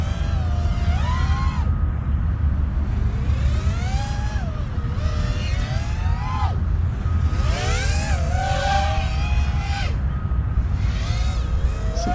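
A Geelang Lightning 120X 3-inch micro drone on its stock factory tune flies close by, its motors whining in rising and falling pitch sweeps as the throttle changes, over a constant buzzing drone.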